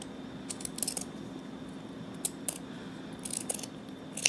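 Scissors trim flannel fabric for coasters, with light, close snips and small clicks scattered irregularly over a faint steady hum and no talking.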